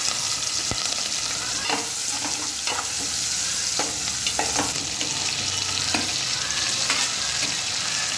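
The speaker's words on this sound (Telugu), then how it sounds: "నెక్స్ట్ చిల్లీ, ఆనియన్ ఫ్రై చేసుకున్నాం." Chilli and onion fry in hot oil that already holds the whole biryani spices for an egg biryani, a steady close sizzle broken by scraping stirs of a spoon in the pan, with no talking.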